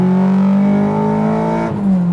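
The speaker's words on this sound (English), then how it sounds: "the exhaust is so loud" Honda Integra Type R with a K24 engine revving hard through its loud exhaust, a sustained high-pitched VTEC wail that holds steady, then drops briefly near the end before climbing again.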